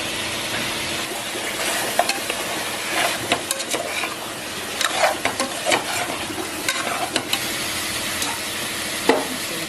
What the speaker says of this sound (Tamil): ஒரு 2 நிமிஷம் மட்டும் அப்படியே வதக்கி விட்டு கொஞ்சம் கருவேப்பிலை